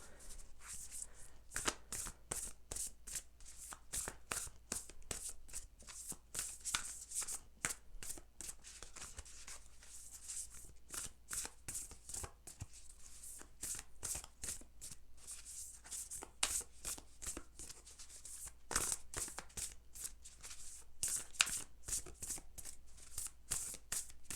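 A deck of oracle cards is shuffled over and over at close range, giving quiet, rapid riffling and flicking bursts in a continuous, uneven rhythm with no talking.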